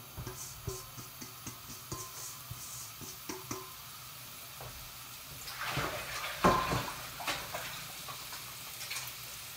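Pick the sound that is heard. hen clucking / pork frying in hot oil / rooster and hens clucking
pork frying in hot oil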